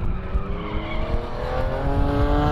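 D21 drift car sliding on a track, a continuous loud tire squeal over a roaring engine drone, sustained throughout without a break.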